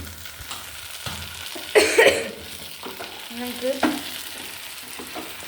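Prawns fry in a pan while being stirred, soft sizzling under a couple of louder scraping stirs and utensil knocks, close by, with a brief spoken word over the cooking.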